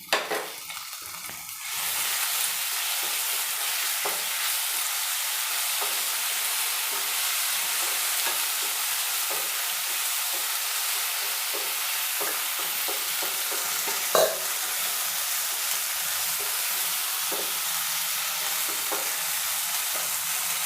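Spice paste frying in oil after onions, with a steady loud sizzle and repeated stirring scrapes in the pan, continuous throughout and no talking.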